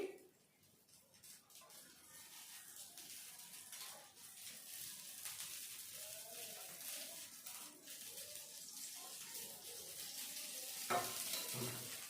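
Oil spread with a spoon around the edges of a pesarattu frying on a pan, a soft, steady sizzle with faint scraping strokes that swell gradually, heard alone and fairly quiet.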